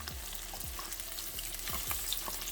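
Brassicas sautéing in a hot skillet give a steady, close sizzle and crackle with a few soft stirring scrapes, and no voices.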